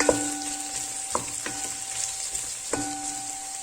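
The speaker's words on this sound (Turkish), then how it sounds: "Bir iki dakika kavurmaya devam ediyorum soğanlarla birlikte." Onions sizzle steadily in a hot pan, with occasional clicks and scrapes of stirring over a faint constant hum.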